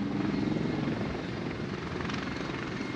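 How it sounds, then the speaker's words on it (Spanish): Mi-35 military helicopters, with KT-1 aircraft, pass overhead at a Peruvian Air Force day ceremony, a steady, loud rotor and engine roar filling the air without pause. "Pueden apreciar encima de ustedes cómo siguen dando cobertura las aeronaves KT-1 y los helicópteros Mi-35."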